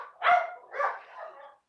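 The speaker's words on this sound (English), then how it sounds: "It's usually what they bark at every day." Dogs indoors bark at something outside, likely a cat, delivery driver or mail carrier, giving two or three close, loud barks that run together without pause.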